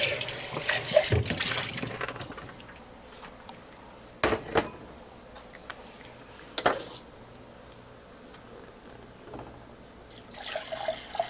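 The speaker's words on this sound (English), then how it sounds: "Let's dump out this water." Water poured out of a container and rinsed in a sink after salt-water TDS testing, heard as a few splashy bursts and trickles separated by quieter stretches, close by with no talking.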